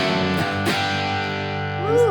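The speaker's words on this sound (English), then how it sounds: "I want a little plate reverb on there" Plate reverb with a shortened decay, dialed in on the Universal Audio Ox, colors a sustained electric guitar tone with a short tail, heard alone and at steady loudness.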